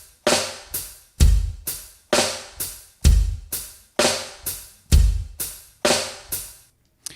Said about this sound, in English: So here we have a kick, hi-hat,